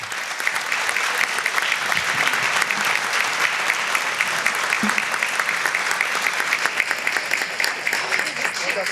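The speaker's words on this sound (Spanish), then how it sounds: "al señor Leo Zuckerman, para quien pido un aplauso." A conference audience breaks into sustained applause for a speaker, a dense, even roar of many hands clapping at close range that holds steady throughout.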